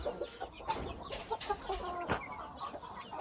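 A rooster under parasite treatment for lice and mites clucks in short, repeated, close-range bursts, with brief gaps and a faint, busy farmyard background.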